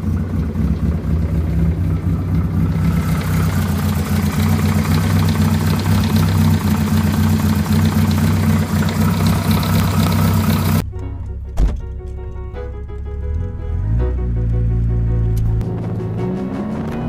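A Triumph TR7 engine idles steadily and loud for about eleven seconds, then cuts off abruptly, leaving a quieter rumble with scattered clicks and knocks, and a brief revving swell near the end.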